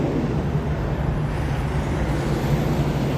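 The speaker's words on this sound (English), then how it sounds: "Got my little handy dandy little compressor." Portable air compressor running beside a semi-trailer during a roadside tire replacement, a steady broadband hiss and motor drone held evenly for the whole stretch, with no talk.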